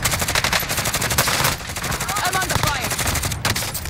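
Rapid automatic gunshots in Call of Duty: Modern Warfare, close and loud, firing in dense bursts with a brief lull midway before resuming.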